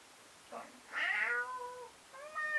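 A female house cat meows at a door: a faint short call, then a loud drawn-out meow, then a third rising meow, close by with no talking.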